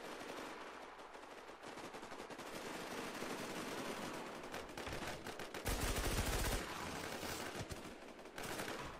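Rapid automatic gunfire in a video game, sustained bursts of loud, dense shots that run almost continuously, with a heavier, louder burst partway through.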